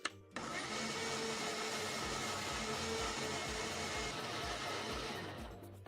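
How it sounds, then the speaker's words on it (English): A blender whirs steadily and loudly through cake batter made without flour, sugar, milk or butter, starting with a click and running in a continuous grinding drone. "I'll just start by blending this, then I'll add the rest."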